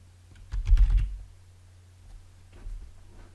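Someone types on a computer keyboard while inserting text in a Canvas Workspace program on a PC. A quick burst of closely spaced key clicks arrives first, then a quieter, sparser scattering of keystrokes follows after a pause.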